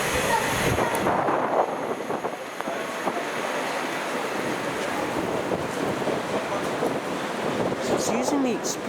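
Stormy wind buffets an open railway platform at Brent Cross West station, a continuous blustery roar with gusting swells and microphone rumble, broken by a few faint knocks and squeals.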